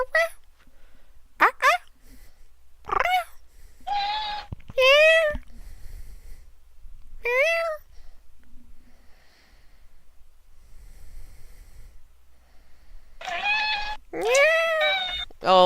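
A talkative pet cat meows loudly again and again in short, rising calls, some drawn out, with quiet pauses between them and a person speaking at times.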